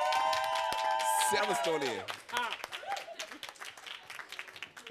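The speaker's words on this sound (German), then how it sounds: "bitte einen dicken, dicken und fetten Applaus für meinen Lieblingskabarettisten Toni Lauerer." Audience applause for a cabaret artist at a Bavarian fair stage, loud clapping and cheering mixed with music and a man's greeting at the start, then fading under continued talk.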